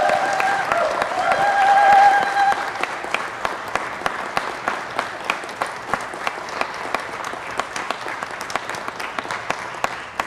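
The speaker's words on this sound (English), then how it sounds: "Let's give her a big round of applause." Applause at a city council meeting, many hands clapping steadily for about ten seconds, loud at first and then settling into an even patter, with a voice briefly audible early on.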